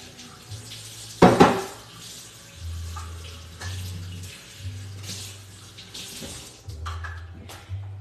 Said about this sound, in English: Let me rinse this a little.